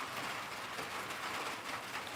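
Soft, steady patter of rain falling outdoors, a faint continuous hiss with scattered drop sounds and no talking.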